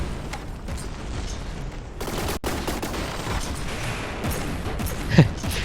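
Cannon fire from a warship in From The Depths, with 500mm cannons: heavy booms and crashing impacts over a constant mechanical rumble, including a sharp blast near the middle and another strong hit near the end.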